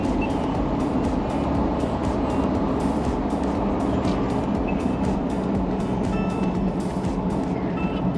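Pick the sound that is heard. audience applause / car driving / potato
car driving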